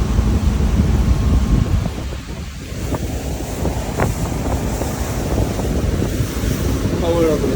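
Wind and ocean waves around a 33-foot Monterey boat carrying passengers out of Barnegat Inlet into the Atlantic, a steady loud rush of wind buffeting the microphone with churning water throughout.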